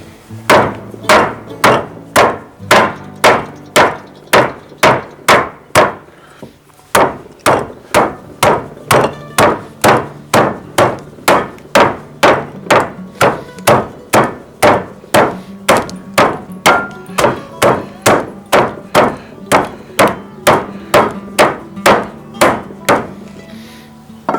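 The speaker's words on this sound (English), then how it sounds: "we're going to take our freaking cast iron skillet and flatten them out. It's going to be kind of noisy." Heavy metal thuds of a cast iron skillet pounding meat flat, steady at about two per second, near and loud. A brief pause comes early, then the flat, dull whacks resume with no talking.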